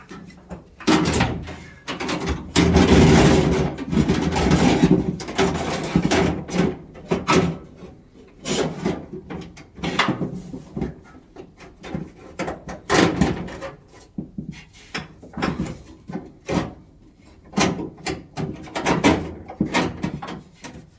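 Power window regulator unit sliding into the door of a 1973-79 Ford F-series truck, giving repeated close wooden-sounding scrapes, knocks and rubbing thuds in irregular bursts with no talking.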